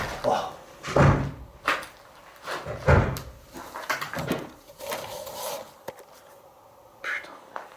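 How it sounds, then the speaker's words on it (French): Series of thuds and knocks like a door being forced or rattled, several loud bumps spaced irregularly with quieter clatter between, heard close with a voice talking intermittently. "ça faisait comme des bruits de porte que quelqu'un essayait de forcer"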